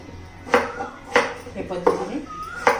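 A knife cuts peeled potatoes into large chunks, with four distinct chopping knocks spaced through the clip, each followed by a brief clatter. A faint voice sits in the background between the strokes.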